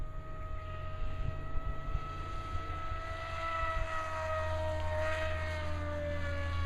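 A Dynam Hawk Sky RC model airplane flying inverted, its propeller motor a steady distant buzz whose pitch drifts slowly as it passes, heard alone over faint outdoor background.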